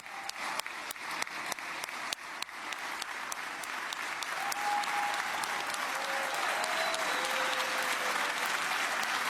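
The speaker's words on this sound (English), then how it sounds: "You can hear the applause, the celebration" Sustained applause and cheering from a large crowd as President Trump and Benjamin Netanyahu approach the podium, a dense steady roar of clapping with a few whistles rising above it and growing fuller toward the end.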